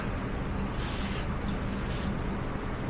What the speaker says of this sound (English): when you're spraying the carb cleaner